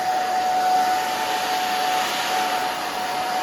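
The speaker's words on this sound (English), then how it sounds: "go back and forth with your blow dryer and your fingers" A hair dryer runs steadily with a constant airy whoosh and a thin high whine, close by and unbroken, with no voices.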